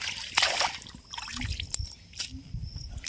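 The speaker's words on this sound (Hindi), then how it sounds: "तो इसको पानी मारना पड़ेगा। तो पानी यहाँ से लेते हैं" Water splashes and trickles onto a tight cluster of mushrooms, heard close as short wet splatters and dribbles with soft handling noises between them.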